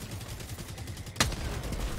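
Enemy artillery and gunfire in the video game Helldivers: a rapid rumbling stream of low shots leads to one sharp, loud blast, followed by continued heavy firing.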